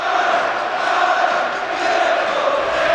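Thousands of football supporters roar in celebration of a goal, a dense, loud, sustained crowd cheer with no single voice standing out.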